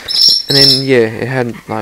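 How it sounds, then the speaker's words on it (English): A bird chirps with sharp, high tweets in the background while a person talks in the foreground, the calls partly masked by the voice. "you can probably hear my bird up in the background"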